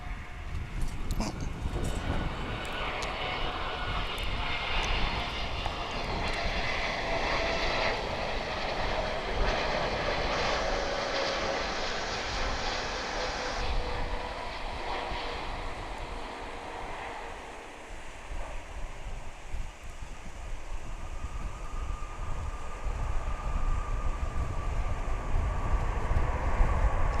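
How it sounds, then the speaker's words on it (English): Cargolux Boeing 747 arriving at DFW International Airport from Anchorage, a loud broad jet roar that swells and shifts in pitch as it passes, then eases to a lower rumble before building again, with wind noise. "I spotted this CargoLux 747 coming in from Anchorage."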